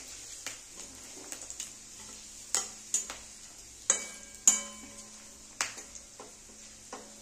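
Bay leaf and dried chilli sizzling in hot oil in a pan, a soft constant fry with several sharp spoon-against-pan clinks and stirring scrapes at irregular intervals.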